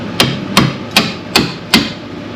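A hammer drives a wedge during rust repair work on a 2002 Ford F350, giving five sharp, evenly spaced metallic strikes, close and loud, with no talk.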